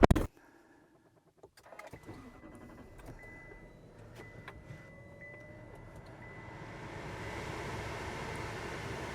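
A Chevy 3500 HD truck engine cranks after a few clicks and a door thud, then settles into a low, steady idle that slowly builds into a broader rumble, close by and with no talk.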